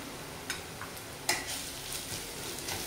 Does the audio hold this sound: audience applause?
no